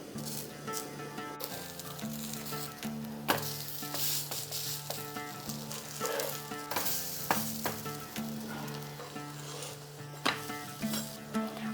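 Eggplant dry-frying without oil in a covered pan over high flame, giving a steady close sizzle with harmonic hum, scattered clicks and a few sharper knocks throughout.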